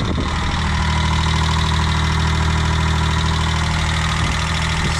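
Loud, close idle of a Subaru Domingo kei van engine with no muffler, a continuous raspy low drone with a slight knocking pulse throughout, no voices.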